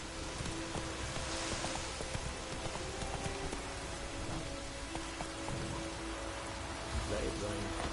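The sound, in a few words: rain pouring in The Witcher 3 video game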